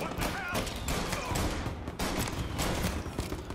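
Rapid bursts of gunfire from a Tommy gun in the game Mafia Definitive Edition, dense and continuous, with speech mixed into the barrage.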